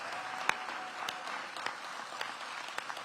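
A crowd at an outdoor back-to-school welcome for city educators claps together, a steady patter of applause heard somewhat distant and moderately loud throughout, with no talking.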